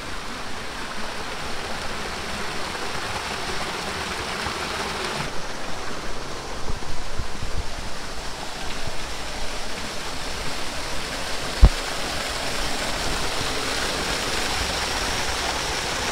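Steady rushing of water from a low but powerful small waterfall in the Vorontsov Palace park, Alupka, Crimea, a continuous broadband roar that stays even throughout, with one brief knock near the end.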